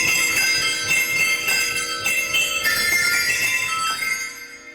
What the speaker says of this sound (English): you can see you've got these straps with sleigh bells that are actually tuned